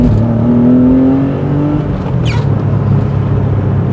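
A Porsche 911 engine with its catalytic converter removed revs close by, a loud, steady rumble whose pitch climbs and settles over a few seconds, with no talking.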